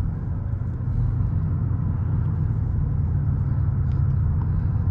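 A BMW M760Li 7 Series sedan accelerating from 40 to 80, a smooth, steady deep engine rumble and road roar heard from inside the cabin, building slightly and holding strong without breaks.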